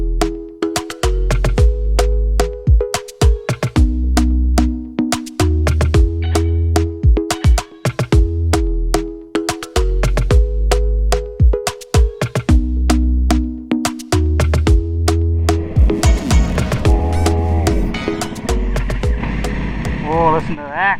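Ducati Streetfighter V4 S with a dry clutch and loud exhaust on a racetrack, a close engine that repeatedly revs up through the gears in strong rising pulls, then turns rougher and noisier near the end, with a voice talking over it.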